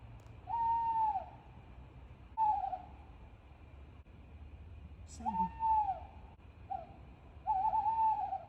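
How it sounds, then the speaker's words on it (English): A tawny-style owl hoots repeatedly at night at a Derbyshire holiday park, a series of wavering calls spaced a couple of seconds apart, moderately distant against a quiet low rumble. "Owls out."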